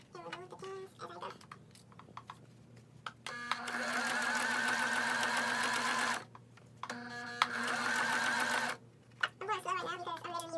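Sewing machine running a zigzag stitch on fabric for a makeup brush belt, two long steady mechanical runs of several seconds each with a brief pause between, plus short bursts and a voice at the start and end.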